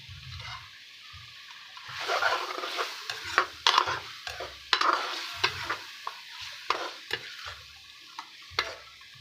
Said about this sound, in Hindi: अभी हम इसको अच्छे तरीके से इसके साथ भूनते जाएंगे।